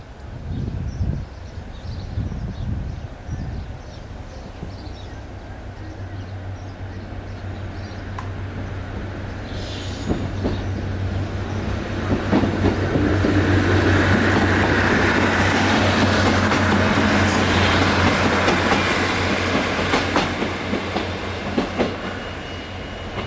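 The train Tangmere rumbles past on the rails at Ravenglass, growing louder with a steady low drone and rhythmic wheel clatter, then holding a loud roar as the cars pass.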